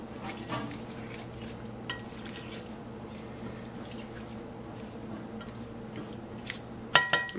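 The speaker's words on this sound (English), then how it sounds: "I'm going to give it another stir" Vegan Mexican rice is stirred in a Heritage The Rock one-pot pan, with soft wet scraping and sloshing close by, a few light knocks, and a sharper clink near the end.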